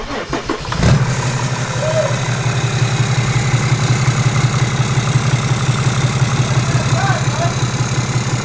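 Diesel Mercedes with a hood stack cranks briefly and catches, then settles into a loud steady clattering idle that holds to the end.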